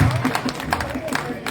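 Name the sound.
audience applause at a poetry recital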